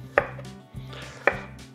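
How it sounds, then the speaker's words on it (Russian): Two crisp knife strokes through peeled tomatoes on a cutting board, cut into pieces for a meat grinder while making vegetable caviar preserves for winter, evenly spaced and close up. "Нарезаю"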